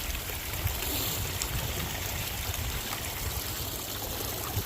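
A small garden waterfall trickling among mossy rocks, a continuous close splashing and burbling of running water, steady and moderately loud with no talk.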